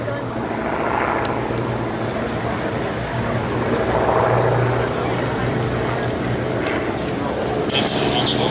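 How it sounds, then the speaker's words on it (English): Two Curtiss P-40 Warhawk fighters, a 1937 design, fly past at a V-E Day 70th anniversary airshow, their piston engines droning loud and swelling then easing as they pass, with a voice faintly underneath. "Inbound right now are 2 Curtiss P-40 Warhawks, a 1937 design that at the time of Pearl Harbor was our #1 fighter"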